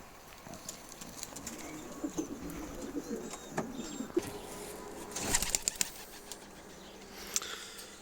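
Sport pigeons in a loft during breeding season cooing softly with bursts of wing flapping and scattered rustling, nearby in the enclosed space, a few louder flutters midway.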